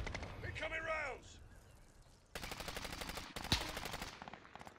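Call of Duty: Warzone gunfire with bursts of rapid shots and a sharp louder crack near the end, mixed with game effects and faint voices.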